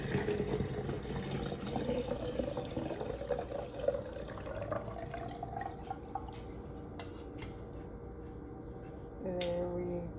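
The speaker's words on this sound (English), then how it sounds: "I'm just gonna pour that in there." Liquid herbal spiritual bath is poured into a container, a gurgling trickle whose pitch rises as it fills, then drips and clinks of glass follow near the end.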